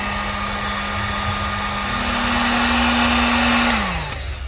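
A $19 Harbor Freight heat gun runs steadily, shrinking heat shrink tube on an alternator connector: a loud continuous fan whine with a steady pitch that steps up slightly, then drops as it is switched off near the end.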